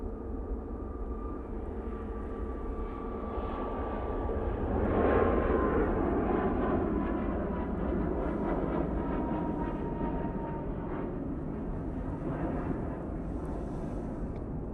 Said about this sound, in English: Right, Tui, now I'm departing.